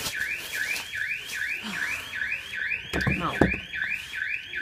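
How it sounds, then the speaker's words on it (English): An electronic alarm wails continuously in a rapid repeating chirp pattern during wheel bearing work on a Volkswagen T3 van, with a brief spoken word and some clunking noises partway through. "Sorry for the alarm, something went wrong somewhere."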